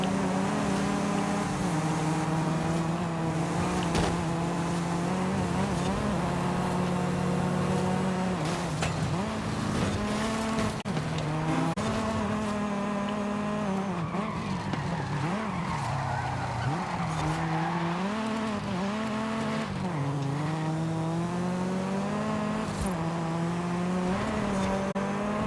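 Nissan Tsuru with about 200 horsepower racing in Forza Horizon 5, its engine revving steadily through rising and falling gear pitches with tyre squeal, loud and continuous, with no talking.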